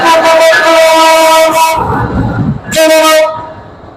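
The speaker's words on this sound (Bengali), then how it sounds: "এই যে বাংলাবান্ধা এক্সপ্রেস ট্রেনের লোকোমোটিভ ওই দিক থেকে আসতেছে।" Locomotive of the Banglabandha Express approaching at a railway junction platform, loud and close with sustained horn blasts broken by a brief gap of rumbling engine noise before the horn sounds again.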